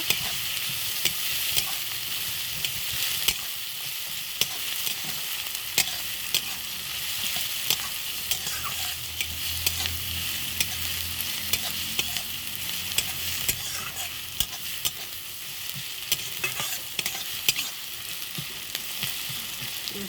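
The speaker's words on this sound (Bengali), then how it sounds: "একটু লাল লাল করে ভেজে নেব।" Semolina is fried in a pan for sooji halwa, giving a steady close sizzle with regular light scraping ticks from stirring throughout, and no voices.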